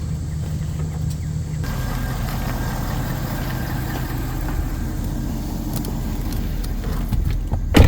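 A car engine idles with a steady low rumble and then pulls ahead slowly onto a driveway, the sound continuous and fairly loud, rising slightly at the end with no talking.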